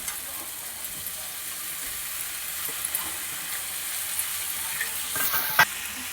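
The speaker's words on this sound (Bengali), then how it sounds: "সব ভেজিটেবলসগুলো একসাথে আমি ফ্রাই করব।" Mixed vegetables sizzle and fry together in a pan, a continuous bright hiss with occasional stirring scrapes and a short clatter near the end, and no talk.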